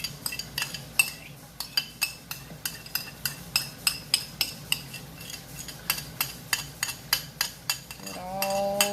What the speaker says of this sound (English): take your yogurt mix and scrape it off in there